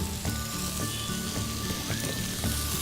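Green, yellow and red capsicum stir-frying over a high flame, a steady close sizzle with soft stirring scrapes and a faint background hum.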